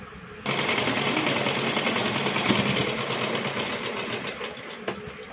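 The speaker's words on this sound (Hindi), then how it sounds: "इसका हम सबसे पहले ये पार्ट सिलेंगे दोनों तरफ से।" A sewing machine stitching a child's jumpsuit made from an old shirt runs in a fast, close, continuous mechanical whir, then slows with a few brief stops near the end.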